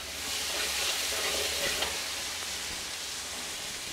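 Onions frying and being stirred in a pan while cooking prawn thokku, a steady close sizzle with soft stirring scrapes throughout, no talking.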